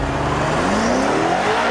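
A 2013 BMW M5 launching from a standstill with throttle applied: a loud, continuous engine roar whose pitch climbs steadily as it accelerates hard, close and alone with no voices.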